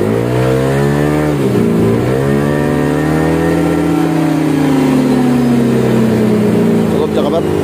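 A Yamaha Aerox scooter with a ROB1 exhaust revs loudly and steadily, its pitch dipping briefly before rising and holding high, close by throughout.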